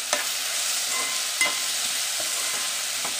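A spoon stirs cumin powder, coriander powder and turmeric in a hot frying pan, giving a steady close sizzle broken by a few sharp scrapes and taps against the pan, with no talking.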